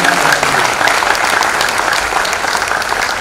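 An audience at a kavi sammelan poetry gathering in Faridabad breaks into loud, sustained clapping, a thick close crowd of applause running evenly throughout.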